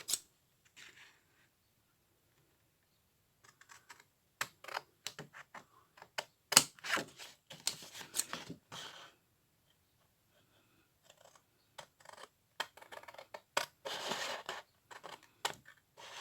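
Scissors cutting paper or card for a stamp storage case, heard as scattered bursts of snipping with short pauses between them, close and fairly quiet, with no talking.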